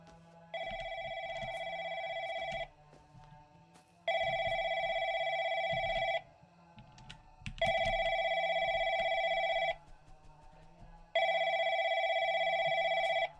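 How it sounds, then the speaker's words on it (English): A telephone rings loudly in a video game, four long bursts of ringing each about two seconds long, separated by short pauses, with faint low background noise between the rings. "With the exception of the loudly ringing phone"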